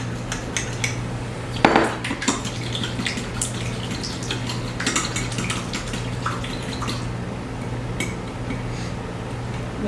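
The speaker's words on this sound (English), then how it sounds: "I'm gonna use a fork to just whisk that in." A fork whisking cornstarch into a marinade, giving rapid close scraping and clinking against the dish with a sharper knock near the start.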